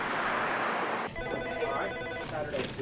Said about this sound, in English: This phone has been ringing off the hook all day.